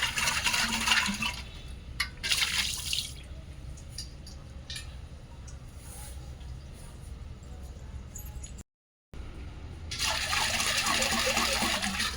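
Water splashes and sloshes noisily inside a copper pot in bursts as it is washed by hand, with scraping and clinking between them, then a brief silence and another loud rush of pouring.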